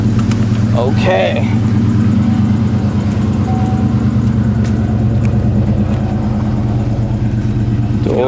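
Engine of a 1990 Ford Mustang with dual exhaust running loud and close, a deep steady idle rumble with a brief rev near the start, voices talking over it.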